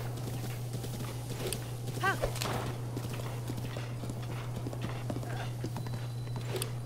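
Steady clip-clop of horse hooves at a walking pace in The Legend of Zelda: Breath of the Wild, mixed with a constant low hum and some background game noise.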